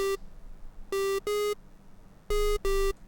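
Bright, buzzy square-wave synthesizer tones made in Serum at one steady pitch: a short blip, then two pairs of longer notes, each starting and stopping cleanly with silence between.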